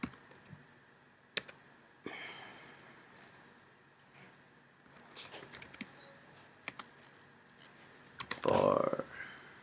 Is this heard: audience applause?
no